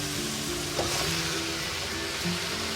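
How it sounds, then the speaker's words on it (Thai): Vegetables and pork stir-fry in a pan for a sweet and sour dish, giving a loud, continuous close sizzle with a faint scrape of stirring partway through. "ทีนี้ก็ผัดจนกว่าผักจะสุกนะคะ"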